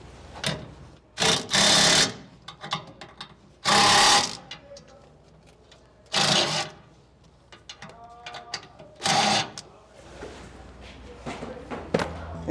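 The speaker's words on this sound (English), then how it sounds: "Now using a 14mm socket, we're going to tighten up all 3 of the 3/8 bolts." A 14mm socket on a ratchet tightens three 3/8 bolts while anchors are installed on a Ford F250/F350 truck, giving several loud bursts of rapid clicking separated by pauses and quieter handling noise.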